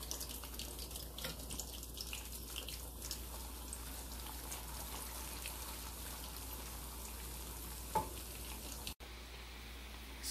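Peanuts fry in hot oil in a home kitchen, a steady, soft sizzle and crackle going on without pause, faint and close, with a small clink near the end.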